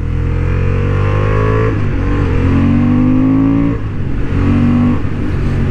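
A Honda Hornet 750 motorcycle on a racing track, its engine revving loud and close, pitch climbing through a gear, dipping at a shift, then rising again in a continuous roar.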